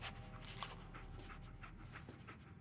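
The dog companion Dogmeat in the video game Fallout 4 pants in quick, breathy bursts, a steady close rhythm of huffing exhales heard alone.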